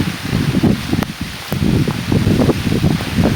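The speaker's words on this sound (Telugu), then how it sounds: "చూస్తున్నారు కదండి వాన పడుతూనే ఉంది" Heavy rain pours at night around a hut, a dense, steady hiss and patter close by, with wind buffeting the microphone and no talk.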